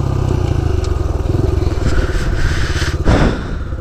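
A Honda C90 motorcycle engine runs close by with a fast, even putter, holding steady before a short burst of throttle near the end, with no talk over it.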